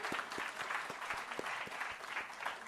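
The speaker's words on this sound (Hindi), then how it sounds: "जोरदार तालियां होनी चाहिए।" Audience applause at the Bhopal Literature and Art Festival, a dense, steady patter of many hands clapping at moderate volume, continuous for the whole stretch with no voices over it.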